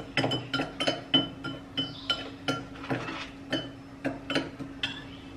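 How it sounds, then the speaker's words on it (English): A metal spoon stirs a baking soda mixture in a glass, giving a steady run of bright clinks against the glass, close up and loud, with no talking. "and then stir it."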